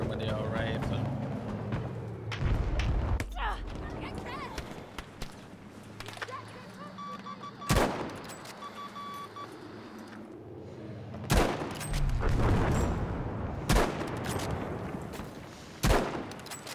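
Rifle fire in Battlefield V rings out as several sharp, spaced shots over a busy battle backdrop, with someone talking throughout.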